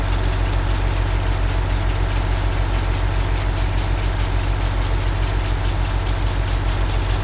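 A tractor engine idles steadily in the video game Farming Simulator 19, a low, even, continuous rumble with a regular pulsing throb and no other sounds.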